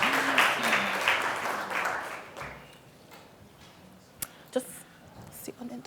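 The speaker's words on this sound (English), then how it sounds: "Could you give them a round of applause as they come along," Audience applause at a university doctoral showcase talk event as speakers take their seats on stage, loud at first and fading after about two seconds into quieter room noise with a few knocks and taps.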